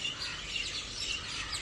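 Parrots call noisily at dawn in a neighbourhood chorus, a dense flock of shrill, overlapping chirps heard from a distance against steady background hiss.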